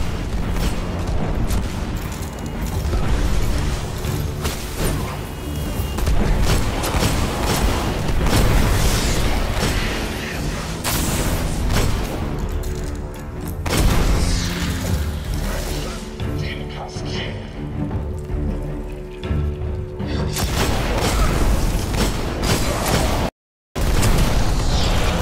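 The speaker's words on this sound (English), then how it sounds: "Impressive weaponry. Varix, what is that thing? Scorch cannon. Powerful and very rare indeed." A rare scorch cannon fires in a sci-fi video game, sending out a run of heavy, rumbling booms and blasts that keep going almost without pause. Voices talk over the barrage, and a brief silent gap comes near the end.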